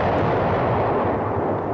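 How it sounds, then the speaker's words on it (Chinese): An M777 howitzer fires near Kherson in Ukraine, one heavy, rumbling artillery blast that fills the whole short moment, loud and booming with a long roll. "目前仍持续使用 M777 榴弹炮对不远处的俄军施加压力"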